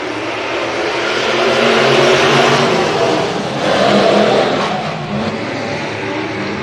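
Several dirt-track race cars at Hibbing Speedway roar close by as they accelerate hard together, a loud, steady engine drone that swells and briefly surges mid-pass before settling, with no voices over it.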